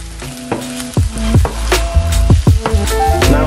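Chopped black olives hitting a hot pan for a salted cod dish, bright sizzling mixed with repeated clinks and scrapes of a utensil stirring, close and fairly loud.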